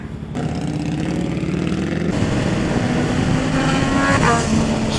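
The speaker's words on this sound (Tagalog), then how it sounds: "yun po ang tunog ng 100k na exhaust" Yamaha XSR900 motorcycle with an expensive aftermarket exhaust, a loud, continuous engine drone while riding on the NLEX expressway, with wind noise mixed in.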